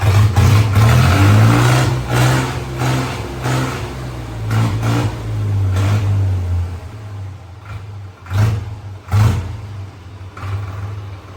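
A Mahindra engine runs loud and close with a deep, throaty drone. It holds steady, then drops back and gives several sharp revving bursts near the end, with no speech over it.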